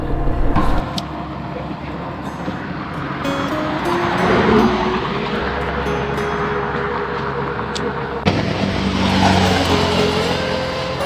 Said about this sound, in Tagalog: medyo may naririnig ako sa motor ko na kakaiba